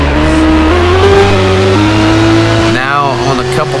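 Group B rally car from a 1982-1986 era Roblox racing event roars at high revs, engine pitch stepping up through gears, then sweeping down and up sharply near the end, loud and continuous over an ongoing commentary voice.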